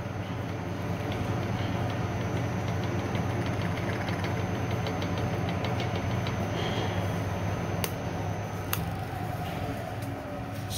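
A large K&T 2D milling machine taking a light skim cut on 304 stainless steel gives a steady, loud mechanical drone throughout, broken only by a couple of sharp clicks near the end.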